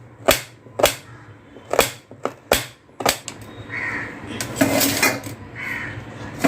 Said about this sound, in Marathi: त्यानंतर कांदे जे आहेत ते चांगले असे बारीक चिरून घेऊया